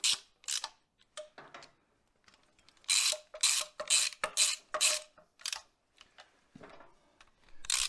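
Ratchet clicks while engine mount bolts are tightened on a 1971 Range Rover, coming in short close bursts of quick clicking separated by brief pauses, with no talk over it.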